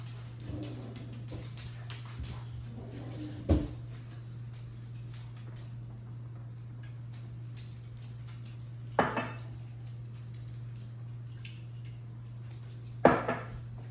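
Glass jars are lifted from a pressure canner with three sharp clinks and knocks spread across a quiet stretch, a steady low hum running underneath and no talking.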